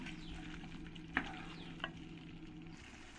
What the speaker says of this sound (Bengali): এবার আমি যে চিকেনগুলো ফ্রাই করে রেখেছিলাম চিকেনগুলো দিয়ে দেবো।